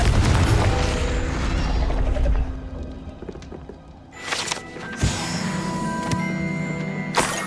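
A Confringo blasting spell in Hogwarts Legacy: a loud booming burst followed by several sharp crashing impacts, with rumbling debris between them.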